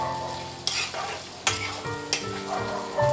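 Onions frying in a pan for Bengali mutton kosha, a close sizzle broken by several sharp scrapes and stirs of a spatula at uneven intervals.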